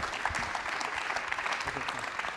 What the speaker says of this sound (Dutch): Dan zeg mag ik een heel groot applaus